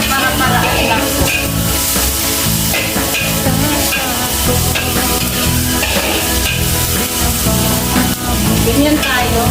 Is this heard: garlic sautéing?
yes